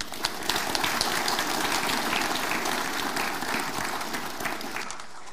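An audience at a speech by the Crown Prince of Norway claps in sustained, dense applause that stays loud and even from start to finish.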